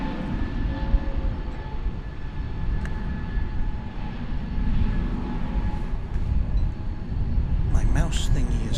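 An aircraft on the runway at DFW Airport gives off a steady, broad jet-engine roar that swells slightly over time, heard from a distance beneath someone talking.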